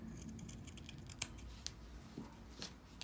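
Scissors trimming fabric darts on a handbag, with several soft, quiet snips spaced across a faint background hiss.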